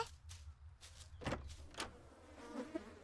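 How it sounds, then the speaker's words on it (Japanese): Insect wings buzz faintly in a filthy toilet in the horror video game The Third Pig, a few short rising and falling buzzy passes over a quiet background. "虫の羽音的に汚いトイレなんでしょう"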